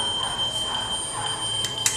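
A toy Porsche Carrera's electronic alarm gives a steady, thin, high-pitched tone with a brief brighter chirp near the end, fairly quiet and heard alone.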